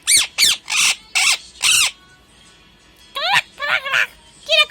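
A pet parrot squawks close by: a run of five loud, harsh calls, a short pause, then several more varied, chirpy squawks.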